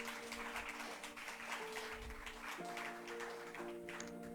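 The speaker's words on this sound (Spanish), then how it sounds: "Le damos el aplauso al Señor." A Catholic congregation applauds the Lord during a sermon, continuous clapping at moderate, somewhat distant level, with sustained organ or keyboard chords changing underneath.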